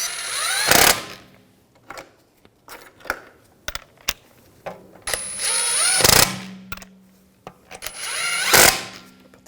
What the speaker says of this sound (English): The other one's on, snug those down.